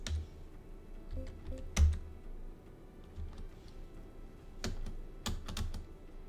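A computer keyboard clicks sparsely at close range, with a few sharp isolated key presses, spacebar among them, separated by quiet gaps.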